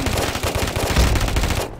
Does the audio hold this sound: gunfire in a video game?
yes